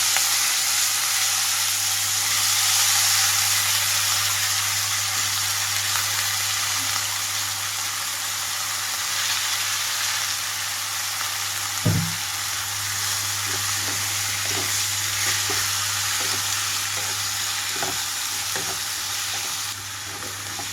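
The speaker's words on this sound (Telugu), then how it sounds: "ఇప్పుడు ఇందులోనే నీళ్ళల్లో కట్ చేసి పెట్టుకున్న వంకాయ ముక్కలు వేస్తున్నాను" Brinjal pieces soaked in water hiss and sizzle steadily in a hot pan with chilli flakes, with a brief clatter of stirring partway through and a continuous frying noise from start to finish.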